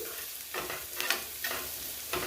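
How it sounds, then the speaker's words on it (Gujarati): Onions sauté in a pan for a Maggi paratha filling, with a soft continuous sizzle broken by four or five close, brushing stir strokes at a loose, uneven pace and no speech. "ફક્ત એક જ મિનિટ માટે આપણે ડુંગળીને સાતળશું"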